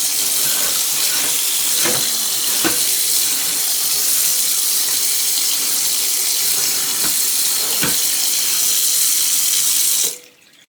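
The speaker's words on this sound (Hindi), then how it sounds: "अब इसके ऊपर ठंडा ठंडा पानी डाल देते हैं ताकि कुकिंग का प्रोसेस रुक जाए।" Cold tap water runs steadily over freshly cooked pasta in a sink, a constant close splashing rush with a few sharper drips and clatters, stopping abruptly near the end.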